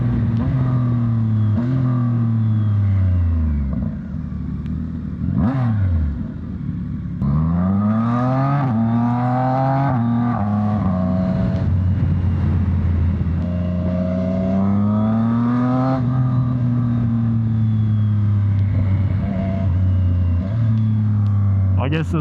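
Motorcycle engine sounds loud and close throughout a large group ride on a highway, the pitch rising and falling through gear changes and acceleration over steady wind rumble, with a rider talking over it.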